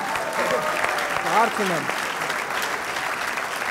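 Audience applause on a sports entertainment show, broadband and steady throughout, with someone talking over it in the middle.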